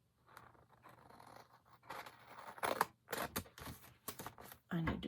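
Scissors snip through paper slices for a craft explosion box in a run of close, crisp cuts of uneven rhythm, with a voice speaking between them.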